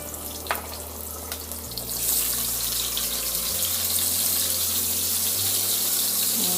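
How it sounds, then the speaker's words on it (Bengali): Prawns dropped into hot oil for a Bangladeshi prawn bhuna, setting off a loud, steady sizzle that swells after a couple of seconds and holds as a broad continuous hiss, with no talking. "তেলটা আমার মোটামুটি গরম হয়ে গেছে, আমি চিংড়িগুলো দিয়ে দিচ্ছি"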